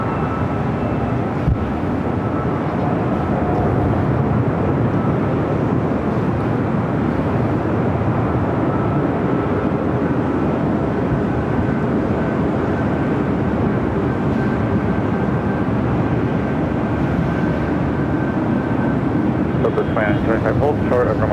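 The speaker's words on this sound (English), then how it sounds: "Got those 2 A380s marching on over here to 24 left." Two Airbus A380s taxi toward runway 24 left at LAX, their jet engines making a steady, unbroken low roar and whine that holds at an even level throughout, heard from some distance across the airfield.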